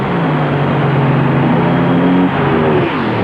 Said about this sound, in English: A green light start, and Dunn smokes the tires.